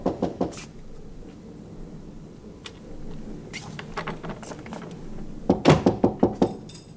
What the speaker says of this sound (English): I think you better knock on Mrs. Thompson's door